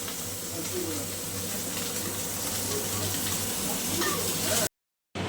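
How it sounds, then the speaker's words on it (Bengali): A steady, close sizzle of fish frying in a pan, continuous and even, with a low hum underneath before it abruptly cuts off. "আপাতত মাছ ভাজাটা করে নিই"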